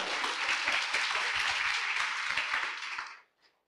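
An audience at a leadership meeting claps in a loud, steady wave of applause that fades out near the end, leaving a brief quiet tail.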